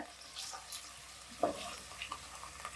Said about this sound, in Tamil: அதே எண்ணெயில் கட் பண்ணி வச்சுக்க உருளைக்கிழங்க பொரிச்சிடலாம்.